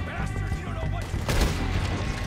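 Rapid bursts of gunfire in the Red Dead Redemption 2 game, loud cracking shots piling up in a short volley with a heavier blast partway through, while a voice is faintly heard underneath.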